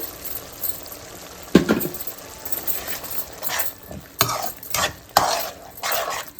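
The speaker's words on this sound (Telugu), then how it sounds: "ఇది కొంచెం పచ్చివాసన పోయేదాకా ఫ్రై అవ్వద్దాం" Ginger, garlic and chili paste with cumin and coriander fries in oil in a pan, with soft sizzling under intermittent sharp scrapes and clinks of a spoon stirring against the metal.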